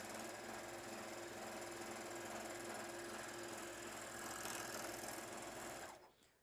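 A Juki MO-1000 serger stitches through doubled cotton home decor fabric, a steady fast mechanical whir and chatter running continuously for about six seconds before it stops abruptly.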